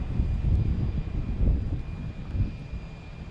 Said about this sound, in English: Oh, another short takeoff.